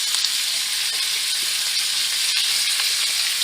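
Mushrooms, carrots, onion and minced garlic frying in a pan, a steady close hiss and crackle of sizzling vegetables with no voices.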